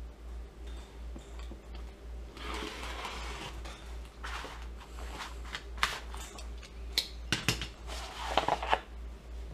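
Homemade sticker paper being cut out with scissors, giving a series of close, quiet snips and paper rustles that grow into sharper clicks near the end over a low steady hum.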